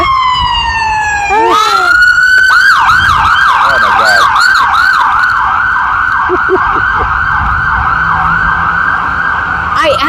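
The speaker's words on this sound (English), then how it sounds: "I think it's an ambulance" A loud ambulance siren wails continuously, sweeping up and down in repeated cycles, close and dominant, with a brief exclamation from a voice near the start.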